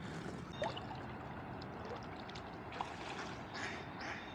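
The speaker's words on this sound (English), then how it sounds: "Startled the ducks." Startled ducks on the Bronx River give a few faint quacks over steady flowing water and rippling sounds around a kayak, distant and partly masked by the stream.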